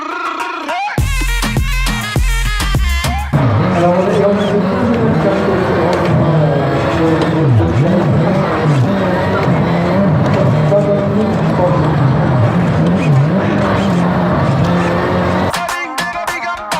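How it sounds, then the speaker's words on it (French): An engine revs hard with squealing tires in a car racing simulator on a mountain road rally stage at a gaming event, loud and close. The sustained roar rises and falls with speech over it and sharp bursts at the start and end. "simulation de voiture c'est impressionnant"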